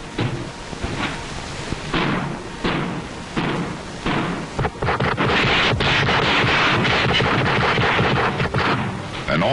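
A Remington Model 742 automatic rifle is function-fired at the factory: loud, close, sharp shots come in separate bursts at first, then pile into dense, overlapping rapid fire.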